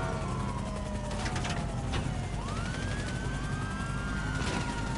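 Rising and falling wails from a damaged LSPD police car siren in GTA 5 run on over a constant engine drone, broken by a few sharp bursts of noise that may be gunfire.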